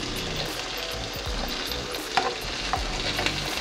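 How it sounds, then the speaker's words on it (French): Butter sizzles steadily as it is spooned over salmon fillets pan-fried with rosemary and garlic, with a few sharp spoon clinks against the pan partway through and no voices. "c'est prendre un peu de beurre et le verser sur le saumon."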